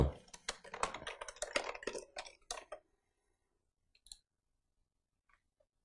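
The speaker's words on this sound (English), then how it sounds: "Now you can type a name for it." Someone types a name on a computer keyboard with a quick, close run of light key clicks lasting under three seconds, then goes quiet apart from a couple of faint taps.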